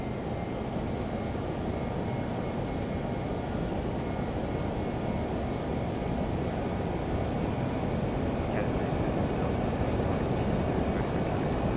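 The twin jet engines of a Learjet 35A in a flight simulator give off a steady, dense roar that holds at a constant level throughout, with no talk over it.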